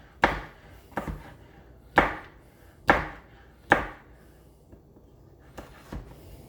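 A knife chopping food on a cutting board for a pasta salad, about eight sharp, close thuds at an uneven, unhurried pace, the last few softer.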